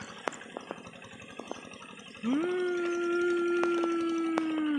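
A steady tractor engine drone starts abruptly partway through and holds at a constant pitch, loud and close, after some scattered knocks and clatter, while ploughing a rice field.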